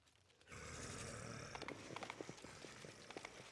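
Horse hooves clopping in the fantasy RPG Pathfinder: Wrath of the Righteous, a run of irregular, fairly close thuds over a steady ambient game bed, with no talking.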